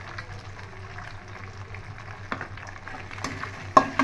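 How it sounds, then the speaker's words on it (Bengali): Eggs and onion frying in a pan give a soft, steady sizzle with a few louder scraping stirs near the end, with no talking. "দিয়ে আবার ডিমটা একটু ভেজে নিয়ে তারপর পাস্তা দিয়ে দেবো"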